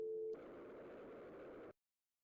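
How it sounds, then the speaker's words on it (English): A steady telephone tone from a network router after a call routes, plain and continuous for under two seconds before cutting off abruptly into silence, preceded by a brief higher tone at the start. "we got another dial tone, but that was actually from the router"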